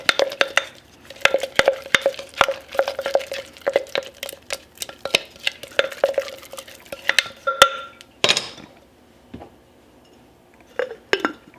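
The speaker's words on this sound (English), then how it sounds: "I've got my little spatula. This thing is so handy. Anyways, just gonna give it a good little stir." A spatula stirs in a pot or bowl, giving rapid, rhythmic clinks and scrapes for several seconds. It pauses, then a couple of louder knocks follow and a few final taps.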